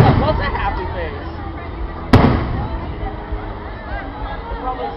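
Fireworks at Disney's Hollywood Studios crackle and pop under a murmuring crowd, with one sharp bang in the middle and softer fizzing bursts before and after.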